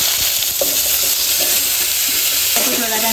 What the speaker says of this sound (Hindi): और अभी लास्ट में कड़ी पत्ता, मैंगो डालेंगे और अच्छा मैंगो को फ्राई करेंगे थोड़ा टाइम के लिए।